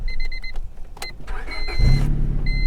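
A 1965 Chevrolet Corvette with automatic transmission idling at a salvage auction yard, a low steady engine rumble that swells louder near the end beneath brief chirps and background clatter.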